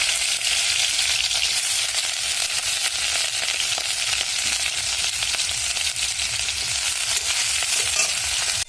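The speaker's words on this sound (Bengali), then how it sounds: "আলুগুলোকে ভেজে নেব।" Small diced potatoes fry in oil, making a loud, dense and continuous sizzle that holds steady from start to finish.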